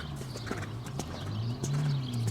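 Horse moving at a canter in a dressage training session, with rhythmic hoof clip-clop and snorting breaths repeating steadily over low background rumble, close and moderately loud.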